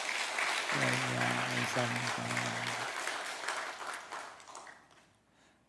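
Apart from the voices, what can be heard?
audience applause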